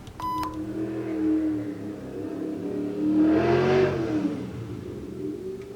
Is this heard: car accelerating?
yes